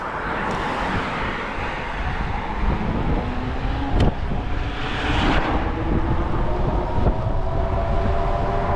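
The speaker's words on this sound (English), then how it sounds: "I want to let these cars go by" Cars passing on a cold-weather road, heard from a stopped ride on a Magician Alpha, a sustained broad roar of traffic rising and falling as several vehicles go by, fairly loud and close, with brief sharper bumps.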